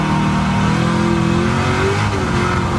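The Red Devil Camaro race car, prepared by Stielow Engineering, accelerates hard with a loud, sustained engine roar whose pitch climbs steadily, heard close from on board with no speech over it.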